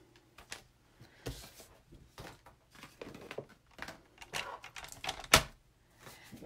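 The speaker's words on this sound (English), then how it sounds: "Bring in my trimmer." A paper trimmer handling cardstock, with a series of quiet, close clicks, taps and sliding knocks, one sharper snap near the end.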